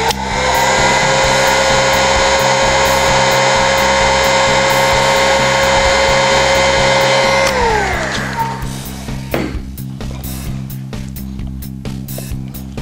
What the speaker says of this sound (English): But the easiest way, hairdryer, heat gun,